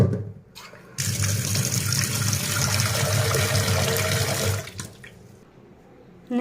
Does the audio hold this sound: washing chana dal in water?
yes